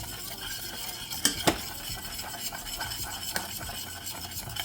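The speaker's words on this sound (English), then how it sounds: "Give it a nice stir. And we're gonna do this for about a minute, guys, just to make sure the flour is cooked" Flour cooking in a pan for a pork tenderloin glaze is stirred with a utensil, giving a soft continuous scrape and faint sizzle, with a couple of sharper clinks against the pan, close and without talk.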